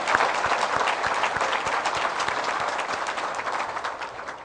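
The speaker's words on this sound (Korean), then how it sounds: "우리 사모님 위해서도 박수 한번" A church congregation applauds the pastor's wife, who once ran a pharmacy and now serves in Kazakhstan: dense, steady clapping from many hands filling the room, loud and sustained throughout with no talking over it.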